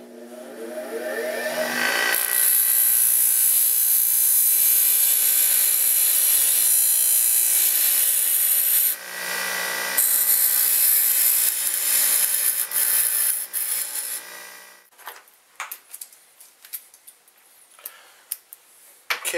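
A bench grinder shaping metal for a lock pick: a loud, steady high-pitched grinding whine runs continuously, briefly dipping once, then cuts off into scattered scrapes and clicks.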